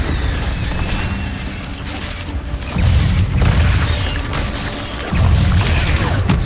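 An Incendio fire spell is cast in Hogwarts Legacy, a loud whooshing roar of flame with repeated swelling low booms and crackle, no voices heard.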